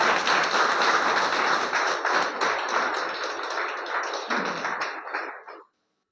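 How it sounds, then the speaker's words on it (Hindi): A seminar audience bursts into loud, dense applause, many hands clapping together steadily for about five seconds before stopping abruptly. "जोरदार ताली होनी चाहिए।"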